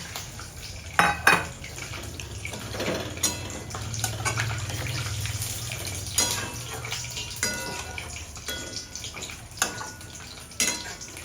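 Metal pans clank and scrape repeatedly while water pours in with a steady low gush over sautéed paneer and potatoes, close by in a kitchen.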